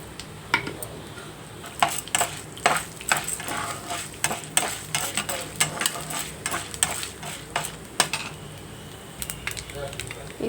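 Chana dal, mustard seeds and cumin fry in a pan for raw mango pulihora, with a spatula repeatedly scraping and clinking against the metal over a light, steady sizzle, close and moderately loud.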